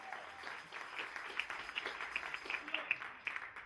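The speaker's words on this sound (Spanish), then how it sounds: "Vamos a dar un aplauso al Señor." A church congregation applauds during a sermon, soft and somewhat distant clapping with scattered individual claps standing out, fairly faint overall with a light murmur of voices.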